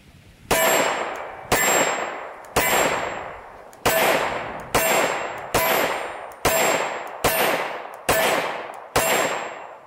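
Plastic 9mm bullets fired from a Glock striking a steel target, ten sharp metallic clangs at a steady pace with ringing decay between each, fairly near and with no talk.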